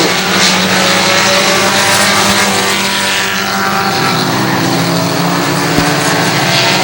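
Race cars lap Hudson Speedway in New Hampshire, their engines droning loud and close in a continuous roar that swells and fades as they pass, with no talk over it.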